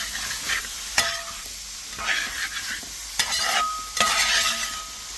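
Chicken and onions for a chicken stew sizzle in a pan, with a steady frying hiss broken by sharp scraping stirs of a utensil against the pan at irregular intervals, close and clear.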